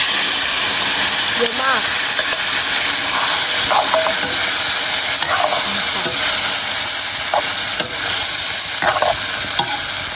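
Tomato and other ingredients frying in a pan are stirred with a utensil, producing a loud continuous sizzle with repeated scraping strokes of the spoon against the pan, close up.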